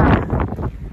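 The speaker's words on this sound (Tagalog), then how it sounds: "mahangin ngayon" Gusty wind buffets a microphone outdoors during a walk, loud and continuous, with broadband rumble swelling and dipping in quick irregular surges and no voices.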